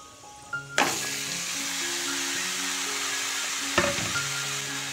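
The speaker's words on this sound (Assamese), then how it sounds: "আৰু এতিয়া মই এই কাটি ৰখা ভোলখিনি ঢালি দিম।" Chopped ridge gourd tipped into a pan of frying onions lands with a sudden loud sizzle, then a steady hiss runs on under scraping stirs, with a second burst of sizzling as it is turned again.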